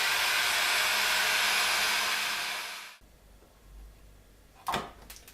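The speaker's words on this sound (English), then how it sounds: "shrink it with the hot air gun" A hot air gun shrinks yellow heat shrink tubing over wires, a loud steady blowing roar that fades slightly and then cuts off abruptly, followed by quiet room tone and a few brief handling clicks.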